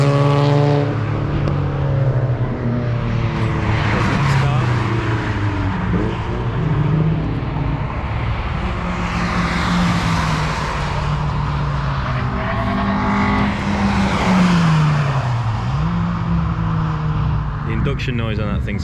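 Race car engines at an Oulton Park trackday on a wet day, heard from the pit wall as loud, continuous intake roar with rising and falling revs as cars pass, with people talking over it.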